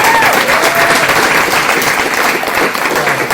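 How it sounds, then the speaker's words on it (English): An audience at an academic lecture on SAR remote sensing breaks into sustained applause, a dense, even wash of clapping that stays loud and steady throughout, with a faint voice briefly over it. "So Roland deserves a round of applause for this."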